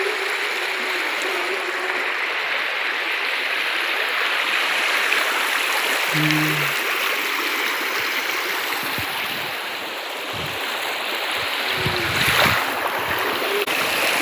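Steady broadband rush of a fast-flowing river in heavy flow, loud and continuous throughout, with a brief low thump near the middle.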